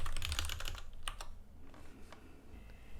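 Typing on a computer keyboard to enter an install command during setup of a Craft 5 CMS project, with a burst of rapid keystrokes followed by a few scattered, fainter taps, no talking.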